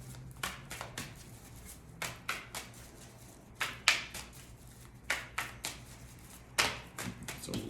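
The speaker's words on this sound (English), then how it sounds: "It's a long shuffle today because I already pre-shuffled." Tarot cards shuffled by hand in a long shuffle, a quick series of soft riffling and tapping bursts in an irregular rhythm, close and fairly quiet with no one talking.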